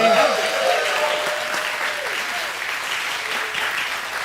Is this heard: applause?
yes